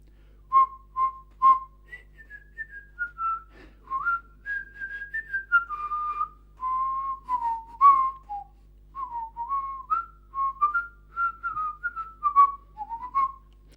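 A storyteller whistles a meandering tune alone, clear pure notes rising and falling in short phrases and sustained tones, close and steady over a quiet background.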